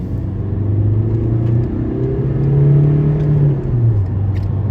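Car engine held at high revs to blow water out through the exhaust, a loud, sustained close rumble that rises and falls slightly as the throttle is varied.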